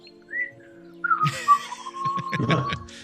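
A person whistles in a place called unsafe and frightening: a short high tone, then a long steady note, with clattering knocks and bumps close by.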